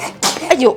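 A single sharp sneeze bursts out in a home kitchen during garlic chopping for a sauce, followed immediately by a short spoken exclamation.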